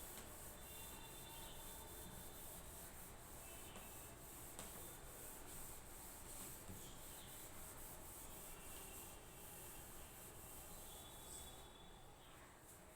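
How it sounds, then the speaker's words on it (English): Chalk is rubbed off a classroom board during an algebra lesson, giving a continuous dry scraping and rubbing that runs steadily throughout, fairly close, with no talking. "I am rubbing the board."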